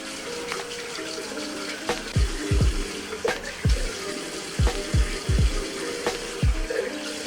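Water runs steadily from a tap while someone rinses after a safety razor shave, with repeated splashes and gurgles from hands scooping water, close and continuous.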